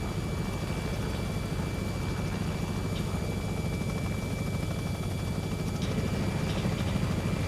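Robinson R66 helicopter in the X-Plane 11 flight simulator, a continuous steady rotor and turbine drone held at an even loudness throughout, with no talking.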